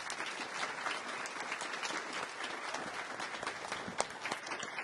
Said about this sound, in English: A round of applause for every single one of them.